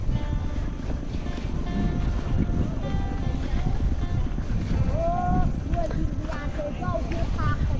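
A steady, rattling tractor engine drones throughout at close range in a rice field, with a person speaking over it near the end.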